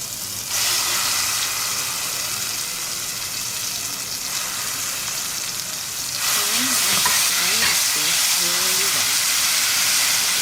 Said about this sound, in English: Now fry the paste really well for about 3 minutes till the rawness of it, all the the onions and the spices goes away